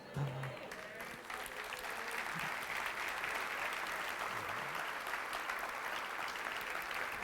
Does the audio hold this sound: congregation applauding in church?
yes